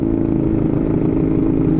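Honda Beat ESP 125cc motorcycle with an Empush EM1 round aftermarket exhaust, a loud close engine drone holding at steady revs with a rough, buzzing tone and light clatter, no voices over it.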